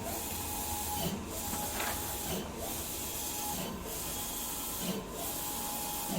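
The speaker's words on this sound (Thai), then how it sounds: "วันนี้มาพบกับ เครื่องพิมพ์นะครับ ตัวงานซั p ลิเมนชั่นเมตรแป80 นะครับ" A 180 cm wide-format sublimation printer running, a steady close hiss and whir with the print head sweeping back and forth at regular intervals, about every 1.3 seconds, with no voices.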